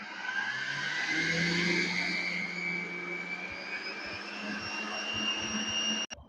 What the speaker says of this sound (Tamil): அதையும் சேர்த்து நல்லா பீட் பண்ணிக்குவோமுங்க.